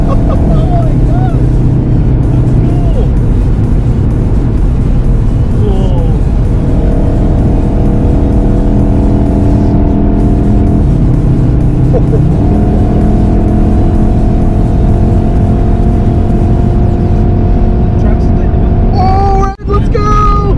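A VW Golf R MK7.5 accelerates hard with launch control, its engine rising in pitch through several gear shifts, loud and close from inside the cabin while people talk and shout.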